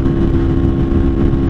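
A Lifan KPR 200 motorcycle cruising on the interstate produces a steady, close engine drone mixed with road and wind rush, holding an even level throughout.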